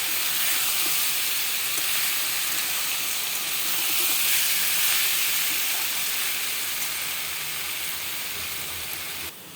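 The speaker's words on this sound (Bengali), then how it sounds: "পেঁপে আর মুগ ডালটা আমি ভালো করে ভাজবো" Raw papaya and soaked moong dal frying in a pan, giving a steady, close hiss and sizzle that holds at an even loudness throughout, with no voices.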